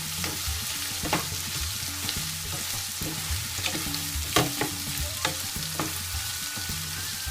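Onions sautéing in hot oil in a pan with fried chillies for a mutton fry, a steady close sizzle broken by repeated sharp scrapes and clinks of a spoon stirring against the pan.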